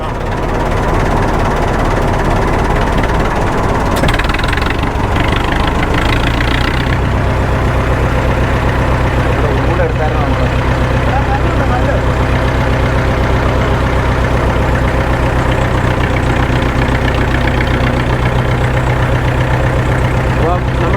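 A road roller's diesel engine idles with a loud, steady low rumble throughout, with a short burst of higher rattling noise early on.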